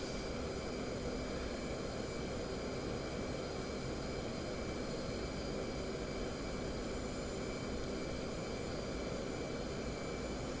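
EF-18 Hornet jet on a smooth landing approach in the DCS flight simulator, a steady, even engine drone and airflow hiss that holds constant and moderately loud with no talk.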